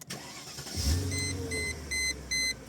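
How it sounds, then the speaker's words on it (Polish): A 1999 Mercedes SL500 sounds its warning chime for a key left in the ignition with a door open: evenly spaced electronic beeps repeat over a low idling engine hum, following an engine start. "Ten sygnał oznacza, że mamy kluczyk stacyjce, niezamknięte drzwi."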